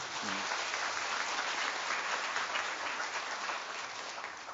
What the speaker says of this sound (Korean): 다시 박수 한번 더 보내주십시오.